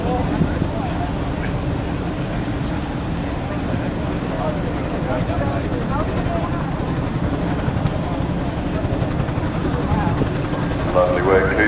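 A Chinook twin-rotor helicopter thumps and roars continuously at an air show display, loud and steady, with a commentator's voice running underneath.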